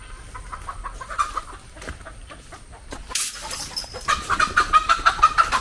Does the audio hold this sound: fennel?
no